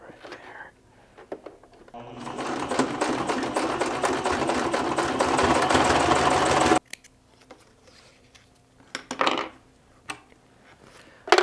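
A sewing machine stitches folded harness webbing over a split bar, running in one continuous burst of a few seconds. Quiet handling rustles and soft bumps follow once it stops.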